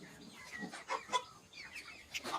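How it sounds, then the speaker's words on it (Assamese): Broiler chickens in a farm shed clucking in short overlapping bursts at moderate distance, a busy, uneven chatter without talk. "এয়া ব্ৰইলাৰ, দানা খুৱাবলৈ এনেকৈ বনাই থোৱা আছে।"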